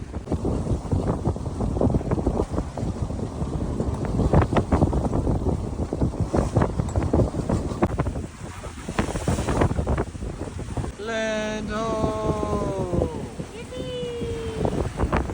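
A sailboat motors at about 5.5 knots through big ocean swells, with heavy wind buffeting and rushing water filling the clip throughout, and a voice speaking briefly near the end.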